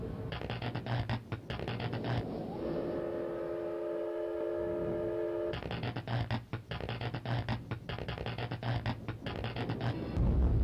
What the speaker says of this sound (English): that was the pen flute